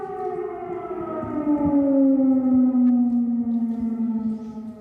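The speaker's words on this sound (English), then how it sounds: "Air raid sirens have sounded in Kiev minutes before a blast was heard." An air raid siren sounds over Kyiv in a long, loud, steady wail whose pitch slowly falls, heard alone without voices.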